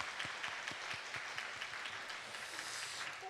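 A church congregation claps together in a quick, even rhythm during a Sunday service, blessing the youth and students; the clapping stays moderate and steady throughout.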